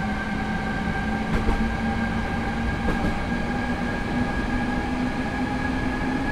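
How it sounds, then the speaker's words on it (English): A BR 426 electric multiple unit pulls away from a stop in Train Simulator 2015 on the Augsburg to Munich route, a steady loud motor hum with rising tonal whine and faint rail clicks throughout, no voices. "this train really does pull away very quickly indeed"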